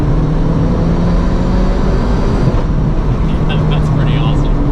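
A Zenvo supercar during a flat-out passenger ride, its engine droning loudly inside the cabin with a few sharp pops on the upshift, partly under people talking.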